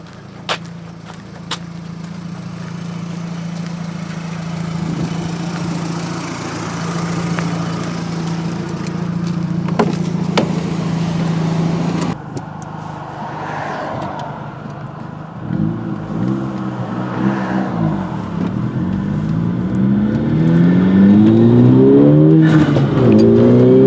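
A VW MKV GTI with a 2.0t four-cylinder and an AWE cat-back exhaust is heard from the cabin: a steady drone while cruising, then repeated revs and gear-by-gear acceleration pulls, loud and smooth rather than raspy.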